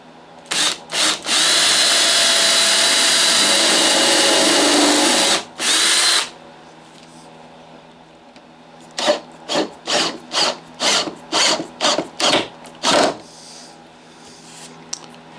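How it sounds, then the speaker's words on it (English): A power drill runs into wood while building a wooden box: two short bursts, then a long steady whir for several seconds, and after a pause a run of quick, evenly spaced bursts as screws are driven home. "Alright, I'll screw this together now. It's drilled and screwed, held in place with clamps"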